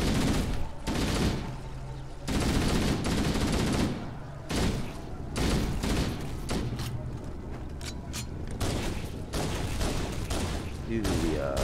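Rapid, dense gunfire from weapons in Halo: The Master Chief Collection, fighting the Flood, crackles in continuous bursts with brief gaps, loud and close, with no voices in between.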